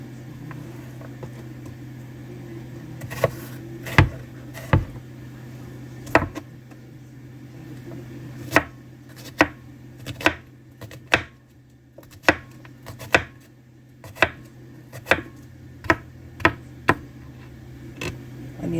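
A knife chops onions on a board during canning prep, producing sharp, isolated knocks at an uneven pace over a steady low background hum.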